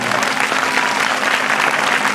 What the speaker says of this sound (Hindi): बस आपकी तालियों में चांदपुर वाला जोर होना चाहिए।